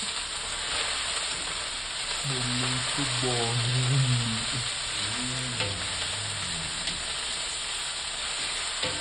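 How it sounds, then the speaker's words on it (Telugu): Tender tamarind leaves fry lightly in a pan, giving a steady close sizzle that runs the whole way through, with some faint voice-like tones in the middle. "చింత చిగురు ఆకు కొంచెం లైట్గా ఫ్రై అయ్యేలాగా ఫ్రై చేసుకోండి"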